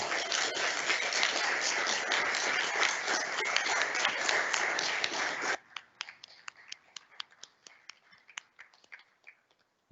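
A conference audience applauds at a UN commemoration: dense, loud clapping for about five seconds, then cutting off abruptly to a few scattered, fading claps.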